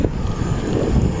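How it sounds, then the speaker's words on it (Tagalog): Wind gusting at Liwa beach in Zambales, a loud, rough rush buffeting the microphone throughout a brief moment, with no talk over it. "Yan, mahangin siya"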